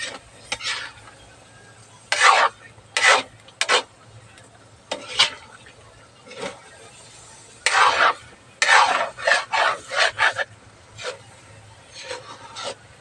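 A spoon scrapes and stirs sinantol, a Filipino dish, in a cooking pot as it nears doneness, with bursts of scraping and knocking in irregular clusters and quiet pauses between them.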